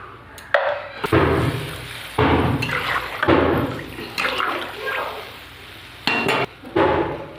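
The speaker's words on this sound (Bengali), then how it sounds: "এবার আমি জল দিয়ে দেবো।" Water poured from a vessel into a pan of Bengali rohu fish curry with brinjal, salt and turmeric, in several splashy gushing bursts separated by short pauses, with light clinks of the pan.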